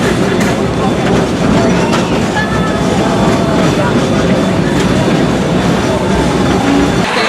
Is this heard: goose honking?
no